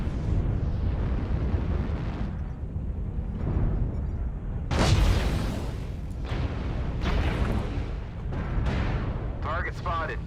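Airstrike explosions in a video game go off as heavy booming blasts, the loudest near the middle, over a constant rumble and crackle, with a game voice calling out in between.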